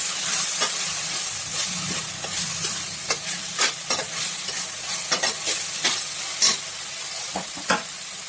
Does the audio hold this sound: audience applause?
no